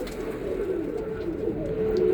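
Birmingham Roller pigeons coo steadily inside a loft, a soft continuous murmur of several birds layered over a low background hum, with no talking.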